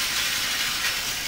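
An electric train passes close by with a loud, continuous rushing hiss that holds steady throughout the short clip.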